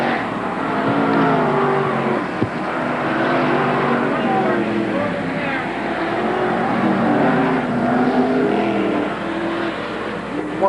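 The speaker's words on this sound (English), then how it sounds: "Here's the checkered flag for Scott Wood, car number 38." Modified stock race cars roar around Merrittville Speedway at a 1988 heat race, with engines droning and rising and falling continuously as the cars circle, and a voice heard under the noise.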